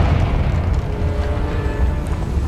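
A Confringo spell blast in Hogwarts Legacy, a loud, dense, sustained booming explosion with heavy low rumble filling the whole stretch without pause.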